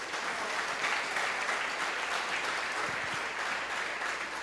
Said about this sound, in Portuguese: Bate palmas para Jesus.